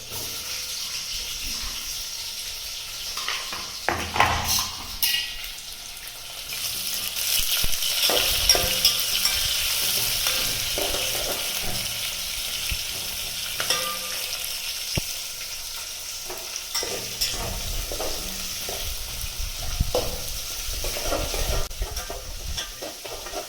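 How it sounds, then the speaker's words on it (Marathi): Chopped onions and potatoes fry in a pan for chicken sukka, with a steady hiss and sizzle broken by occasional stirring clatter, rising louder midway and staying close throughout. "पहिल्यांदा व्यवस्थित भाजून घ्यायचं कांदा वगैरे हे सगळं"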